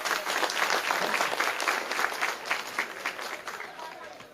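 Audience applause at a Buddhist Dhammachakra Pravartan Day gathering, with dense, steady clapping from many hands that carries on throughout and eases slightly toward the end, with speech faintly present underneath.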